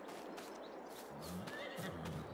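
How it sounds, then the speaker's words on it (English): Horses whinny faintly in Farming Simulator 22 on the Elmcreek farm, a couple of short high neighs against a soft, steady background hiss, with no clear talk. "Horses, enjoy."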